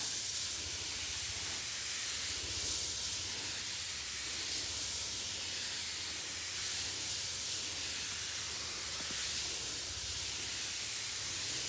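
Garden sprayer spraying bean plants gives a steady, continuous hiss of fine spray that runs unbroken throughout, moderately close with no talking.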